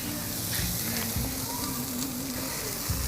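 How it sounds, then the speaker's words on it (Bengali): Food fries in a pan as a cook prepares a meal at a family picnic, a dense, steady sizzle running close and loud throughout while a voice talks over it. "এখানে রাঁধুনি মশাই রান্না করছে"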